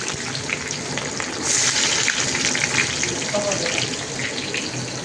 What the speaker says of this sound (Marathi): त्यांनी तेल तापवलं आणि सगळे खडे मसाले त्याच्यात टाकले आता त्यावर कांदा टाकला